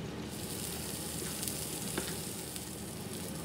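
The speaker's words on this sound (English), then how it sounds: "And we're just gonna stir it." A Mexican scramble sizzles in a pan as it is stirred, a steady dense frying crackle with a few faint scrapes, heard up close and alone.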